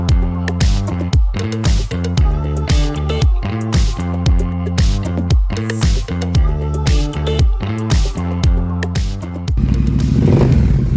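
A 2016 Triumph Thruxton 1200 R café racer idles close by with a steady, rhythmic throb of repeating low pulses. A brief burst of louder noise comes near the end.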